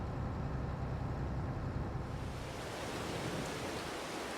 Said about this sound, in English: We'll have to wait for this rain to pass.